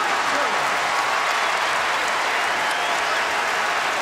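Crowd applause at a Kentucky versus Eastern Michigan college basketball game, a loud continuous roar of clapping filling the arena, with a commentator's voice faintly beneath.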